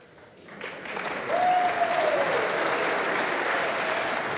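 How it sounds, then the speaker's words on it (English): Sustained applause from a snooker audience for the referee at the 2024 Masters quarter-final, a dense steady wash of clapping swelling after a soft start and holding loud to the end, with a brief tonal whistle-like sweep midway. "Referee getting a round of applause."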